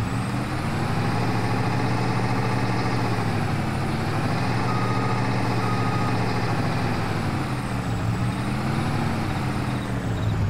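A truck in a video game drives continuously with a steady engine drone and harmonic whine, plus faint air-brake hiss and reversing tones, loud and unbroken with no talking.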